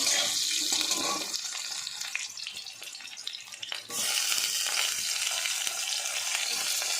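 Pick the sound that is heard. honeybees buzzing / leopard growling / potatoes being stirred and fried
potatoes being stirred and fried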